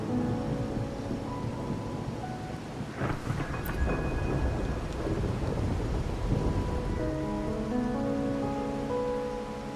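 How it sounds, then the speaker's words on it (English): Rain and thunder in the video game Wuthering Waves: a steady downpour hisses throughout while thunder cracks sharply and rolls around the midpoint, then fades back into the rain. "My granddaughter told me Raguna's rain is a bad omen."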